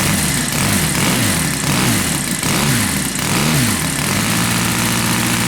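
A Saito 60cc petrol engine on a model plane runs loud and close, its uneven idle surging with repeated revs before settling into a steady, rougher tone near the end.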